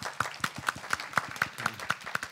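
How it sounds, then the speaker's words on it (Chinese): A church congregation at a Sunday service applauds with fairly rhythmic, evenly paced clapping, soft and somewhat distant in the hall. "给他们一个掌声。"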